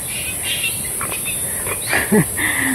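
Noisy birds call out in a series of squawks and chirps, one sharp louder call near the end, against a constant outdoor hiss.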